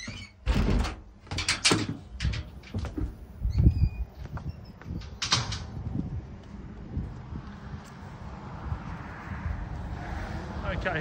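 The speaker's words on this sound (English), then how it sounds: "I'll head out back out the front door now." A house front door swings open and shuts with a few solid knocks and thuds in the first half. Outdoor wind and a low rumble follow, and a person speaks nearby throughout.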